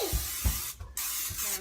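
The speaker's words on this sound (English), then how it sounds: "I'm going to spray some olive oil into the bottom of my bowl" Olive oil sprayed from a can into the bottom of a bowl for bread dough, heard as a few short, close hissing bursts with brief pauses between them.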